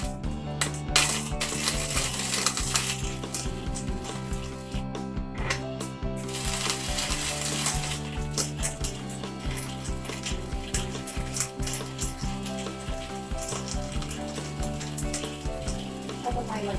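Antique manual coffee grinder cranked by hand through whole beans, a steady, close crunching and crackling with rhythmic gritty grinding that continues unbroken for over fifteen seconds.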